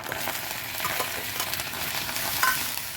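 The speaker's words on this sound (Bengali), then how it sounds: "ডিমটা দিয়ে এভাবে ভালো করে নিয়ে নেড়ে চেড়ে নেব। সিদ্ধ করে রাখা শাকগুলোরও দিয়ে দিচ্ছি।" Egg and boiled greens sizzling in a pan while being stirred, a continuous close frying hiss with soft scraping of the spatula, steady throughout and free of speech.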